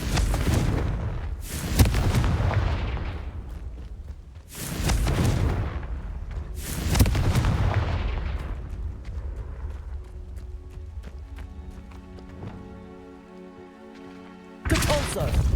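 Fiery Confringo spell blasts in the video game Hogwarts Legacy, several loud booming bursts in quick succession with rumbling tails, followed by a calmer stretch of tonal game sounds before another sharp blast at the end.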